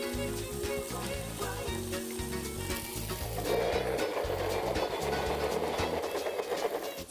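Chicken breast laid on a hot grill rack starts to sizzle partway through, a steady frying hiss rising over background music and continuing to the end.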